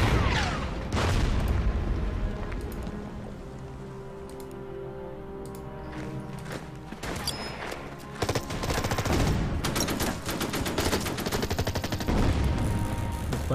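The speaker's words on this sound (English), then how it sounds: "Alright, let's bomb it." Bombing and gunfire in the war strategy game Order of Battle: Winter War: bursts of rapid shots and sharp booms crackle at the start, ease into a quieter stretch, then return as dense, overlapping volleys.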